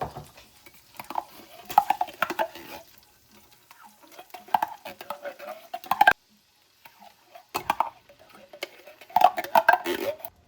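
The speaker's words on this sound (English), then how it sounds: "we're going to add our cream of celery and our cream of mushroom soup" Canned cream of celery and cream of mushroom soup go into a pot of melted butter, heard as close, intermittent bursts of scraping, scooping and metallic clinks separated by short pauses, with no speech.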